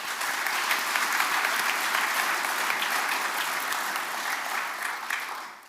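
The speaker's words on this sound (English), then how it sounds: "let's give him some applause." A meeting audience at an annual general meeting gives a sustained round of applause, the clapping even and continuous from start to finish before tapering slightly at the end.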